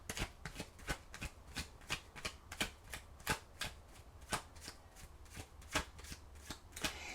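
Oracle cards being shuffled by hand, a steady run of crisp riffling snaps at a quick, even pace, close and quiet, with no talking.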